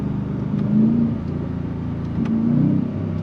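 Ford F-150 Raptor R V8 engine revving hard as it accelerates after a downshift, two loud rising surges of throttle about two seconds apart over a steady deep rumble, close and alone with no talking.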